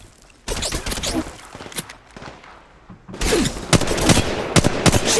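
Gunfire in the mobile game Apex Legends Mobile, loud close bursts of rapid shots and heavy thumps, a sparse volley first and then dense repeated automatic fire.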